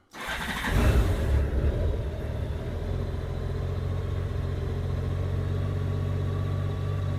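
A 2002 Honda GL1800 Goldwing motorcycle engine cranks briefly, catches with a loud burst, then settles into a steady, smooth idle hum close by.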